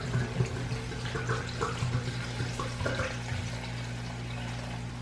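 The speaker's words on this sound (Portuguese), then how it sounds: "Agora eu venho colocando uma água geladinha." Cold water pours steadily into a kitchen blender for watermelon juice, a continuous splashing gush with a low hum beneath, fairly close and without talk.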